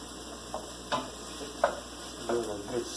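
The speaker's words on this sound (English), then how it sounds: "Give it a good stir once in a while to make sure we're not going to burn anything." Vegetables with browning onion sauté for veggie stock while a spoon stirs them, giving a few soft scraping strokes over a quiet, steady sizzle, close and fairly faint, with no talking.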